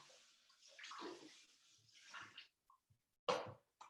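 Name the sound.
rinsing shredded food under running water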